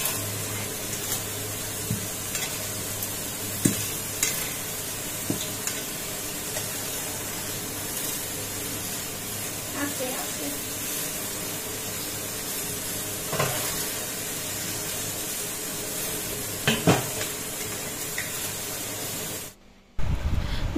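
Puffed luchi flatbread frying in hot oil, a steady close sizzle and hiss with occasional soft stirring clicks, continuous throughout.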